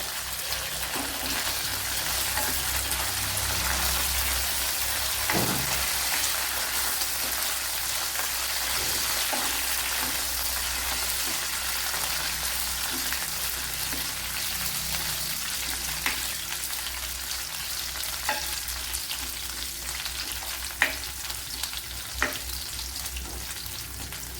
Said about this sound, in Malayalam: രണ്ടൂന്ന് പച്ചമുളക് ഇട്ട് കൊടുക്കുക.